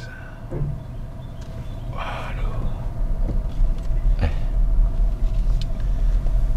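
A BMW iX1 electric car pulls away, giving a low rolling rumble and road noise that gradually builds, with faint talk inside the cabin.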